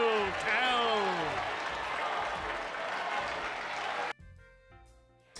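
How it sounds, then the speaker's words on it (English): Looped stock crowd applause from the video game Star Wars Knights of the Old Republic, a steady roar of clapping with a tonal sweep layered over the start, cutting off abruptly near the end before faint game sound returns. "the stock applause sound on loop"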